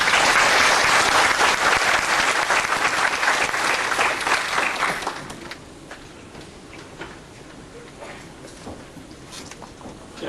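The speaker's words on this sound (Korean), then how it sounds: "큰 박수로 맞아주시면 고맙겠습니다" A lecture audience applauds to welcome a guest speaker, loud dense clapping for about five seconds that then drops to scattered quieter claps and room noise.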